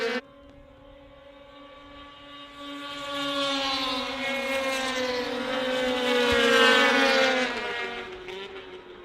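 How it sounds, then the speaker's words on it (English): Pro Formula 500 race cars run on a snowmobile racing track, a high-pitched buzzing engine whine rising in pitch and loudness as they approach, then dropping and fading as they pass by. "The highly competitive Pro Formula 500s are on the track."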